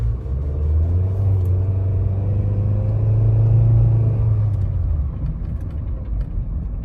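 A car bought from Copart with a bad transmission sits on a lift while its engine is given gas, producing a loud, low rumbling rev that swells for several seconds and then settles back down, with no talking.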